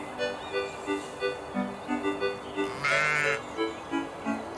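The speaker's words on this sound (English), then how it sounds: "2 sheep, their bottoms towards us, graze among the fresh spring grass in an apple orchard." Sheep grazing on fresh spring grass in an apple orchard bleat several times in a wavering, rhythmic series, moderately close and clear against a quiet background.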